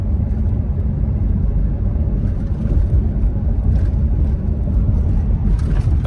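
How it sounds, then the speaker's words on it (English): A 2023 Ford F-350 Super Duty pickup towing a big trailer up a steep hill gives a steady, loud low engine drone and road rumble, continuous throughout with no talk. "The boost is climbing, transmission downshifts."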